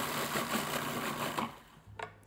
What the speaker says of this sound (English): I'm gonna put it in our food processor and just grind it just a bit just to get it into a smaller grind